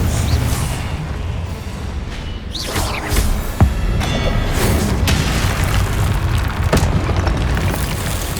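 Confringo blasting spell exploding in Hogwarts Legacy, a series of deep booming blasts over a dense, constant wash of battle rumble, with no break in the roar.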